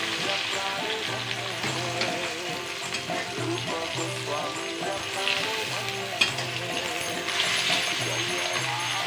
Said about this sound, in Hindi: आलूओं को अच्छा सुनहरा होने तक हम इसको फ्राई करेंगे।